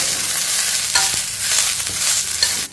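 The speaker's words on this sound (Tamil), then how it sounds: "இதை நல்லா வதக்கி வச்சுருவோம்" Curry leaves, mint and coriander leaves are sautéing in a hot pan, a loud, constant sizzle and crackle with a few stirring scrapes and clacks.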